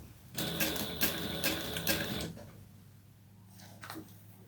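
A sewing machine stitches a mini quilt with a backstitch, running in a steady close whir for about two seconds, then falling quiet except for a few faint taps and clicks.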